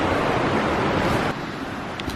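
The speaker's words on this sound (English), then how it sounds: "This is the Bruarfoss Waterfall and it's beautiful" Bruarfoss waterfall in Iceland pours in a dense, steady broadband rush, close and loud, with the roar easing slightly partway through and no talking.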